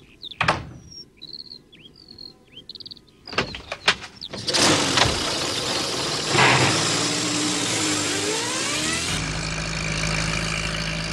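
A car engine starts up and pulls away loudly after clicks and bird-like chirps, its revving pitch climbing and holding steady as it drives off, then continuing as a low rumble.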